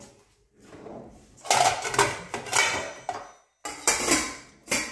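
A lid is set on a pot of salted water for cooking rice in a home kitchen; several close metallic clanks and rattles of lid and pot come in short bursts with brief quiet gaps.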